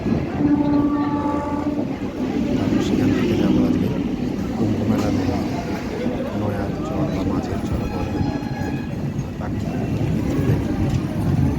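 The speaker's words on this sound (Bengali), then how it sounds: "আজকে আমরা চলে এসেছি কল্যাণীতে ট্রেন ধরে চলে আসলাম" A train running on the line to Kalyani, heard as a steady, loud rumble and rattle of carriages lasting throughout, with faint voices in the background.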